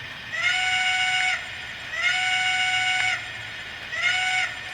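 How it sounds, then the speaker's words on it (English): Three short, evenly spaced whistle blasts from a Lionel Polar Express Elf work train toy, each with a slight rising start, clear and close against quiet background. "And here's the whistle on the Polar Express Elf work train."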